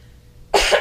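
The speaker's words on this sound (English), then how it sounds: "Excuse my cough." A single short, hoarse cough bursts out close up after a near-silent moment, with a second smaller cough following at the end.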